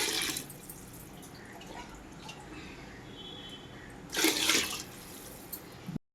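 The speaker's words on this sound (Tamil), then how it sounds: "இதில் 4 கப்பு தண்ணி ஊற்றுறோம் பாருங்கள்" Water poured into a pressure cooker holding two cups of rice while vegetable biryani is being made, a soft continuous splashing stream with a louder burst of pouring near the end, no talking.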